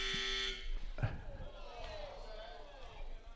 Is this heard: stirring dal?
no